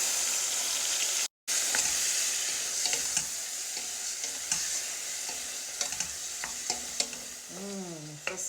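Garlic and peeled tomato sizzle in a pan, a loud, even crackle with scattered spits and pops, a momentary dropout early on and a brief tonal squeak near the end.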